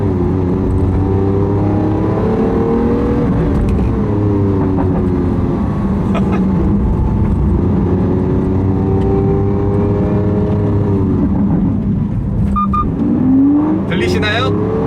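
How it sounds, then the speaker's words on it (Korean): The V12 engine of a Lamborghini Aventador S drones loudly and continuously, its pitch rising and falling as the car is driven, heard close from inside. "이 어마어마한 12기통의 우렁찬 소리 때문에"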